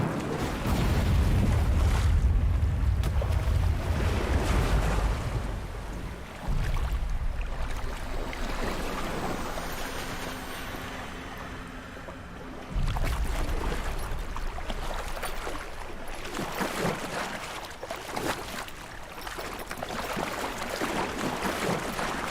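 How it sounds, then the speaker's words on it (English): Loud water splashing and sloshing in a Witcher 3 scene set in Skellige, steady surging bursts that swell and drop off, dense and close with no talking. "The water here is so loud."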